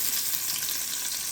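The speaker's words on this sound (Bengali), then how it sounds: "ইলিশ মাছটা ভাজি বইয়ে দিই" Pieces of hilsa fish frying in a hot pan, a steady dense sizzle with fine crackling throughout, close and even, no voices.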